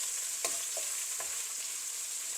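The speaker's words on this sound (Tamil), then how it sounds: "சேர்த்து கொஞ்சம் நல்லா வதங்க விடுவோம்" Tomatoes sautéing in a pan give a steady, soft frying hiss with a few brief stirring scrapes, heard close and alone.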